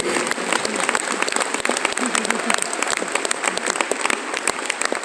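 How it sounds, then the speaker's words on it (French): An audience at a Messmer hypnosis show at the Zénith de Rouen claps continuously and loudly, a dense, steady wash of hand claps filling the hall throughout. "Et on peut les applaudir, mesdames et messieurs"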